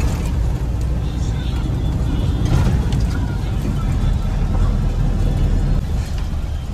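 A truck engine labours uphill on a potholed ghat road, a steady low rumbling drone heard from inside the cab, loud and continuous throughout.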